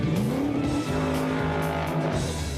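A race car running flat out on a test track, its engine note loud and continuous with a pitch that rises and falls through gear changes, alongside squealing tyres.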